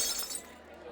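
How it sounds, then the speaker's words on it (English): Glass shatters on the ground in a crowded bar, a bright crash at the start that trails off into scattered tinkling against background murmur. "the glass crashes to the ground"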